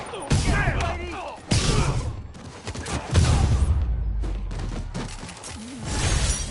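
Robbers' gunfire during a storefront robbery in Spider-Man Remastered, several loud bursts of shots and slams in quick succession, with bursts starting the clip and recurring across it, mixed with voices and combat noise.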